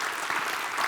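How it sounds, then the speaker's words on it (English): Audience clapping at a birthday bash gathering, a dense, even wash of many hands applauding throughout, moderately loud with no voices over it. "Now you can clap."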